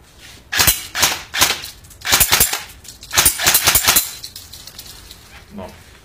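A KWA Ronin Recon ML AEG airsoft rifle fires single semi-auto shots, a series of sharp snapping cracks in uneven bursts, close and loud, then a short pause and one faint final sound.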